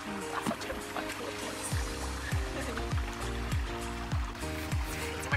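Water in a hotel pool splashes and trickles close by, with a steady rhythmic series of low gurgling sloshes over continuous watery background noise.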